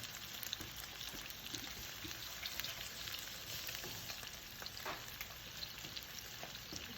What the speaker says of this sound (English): lay the fish down in the pan